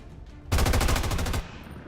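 Rapid burst of gunfire in the tactical video game XCOM 2, a loud, dense stream of shots lasting about a second after a quiet lead-in, then falling back to low background.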